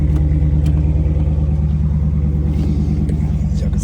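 A Dodge Daytona with a 6.4L engine idles close by, a loud, steady, deep rumble with no revving.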